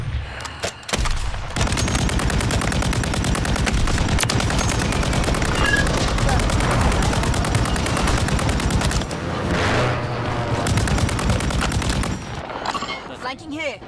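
Rapid automatic gunfire from the video game Warzone 3 fills the clip almost nonstop, loud sustained bursts of shots with brief pauses, players talking faintly underneath.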